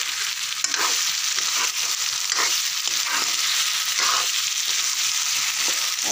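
Mutton masala frying in a pan is stirred close up, a dense sizzle with bursts of scraping. No water being added stands out, and no one speaks.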